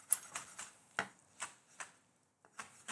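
Sharp knife chops through black fungus on a cutting board, irregular and close, with a short pause before a few more quick cuts.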